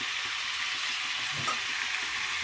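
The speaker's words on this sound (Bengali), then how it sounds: "এবার এইগুলো দিয়ে সামান্য একটু নাড়বো।" Beans and chicken stew fry in a pan in a Bengali-style home kitchen, giving a steady, close sizzle with a faint scrape of stirring partway through. No one speaks.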